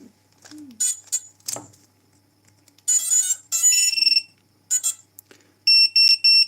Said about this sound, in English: So it's got a buzzer. Now that buzzer should now be powered